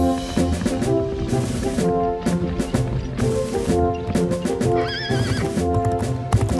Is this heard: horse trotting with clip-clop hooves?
yes